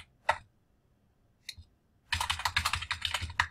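A root password is typed on a computer keyboard, first as two isolated key clicks, then as a quick dense burst of close, crisp keystrokes.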